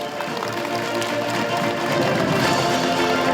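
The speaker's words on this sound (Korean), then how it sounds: "여러분 다시 한번 큰 박수를 부탁드리겠습니다" A crowd at a Korean regional jobs project launch ceremony applauds continuously, a dense, even wash of clapping, fairly loud and sustained throughout, with a faint voice underneath.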